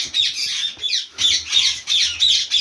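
Birds in a covered indoor breeding aviary give loud, harsh squawks in quick repeated bursts, close by, about five calls in under three seconds.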